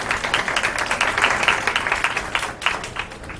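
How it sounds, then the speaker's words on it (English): An audience at an aged care forum claps together, a dense, steady patter of many hands that swells slightly and then eases off, with no voices over it. "So give yourself a round of applause, please"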